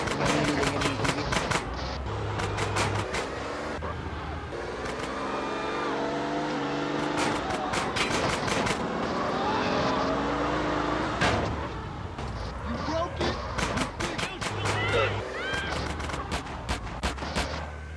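Car engine revving and driving in a Hindi-commentary action video game about fighting gang members, with gunfire-like bursts and crashes, loud and continuous with sporadic low commentary.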